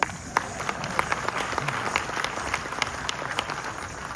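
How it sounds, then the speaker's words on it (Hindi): An audience at a patriotic song programme applauds in a steady patter of many hands, moderately loud and fairly even in rhythm, with a few sharper individual claps standing out. "कार्यक्रम संघ गीतों का है, संघ का नहीं है, तो तालियां तो बज सकती है।"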